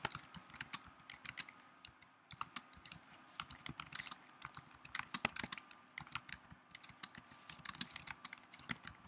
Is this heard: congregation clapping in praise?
no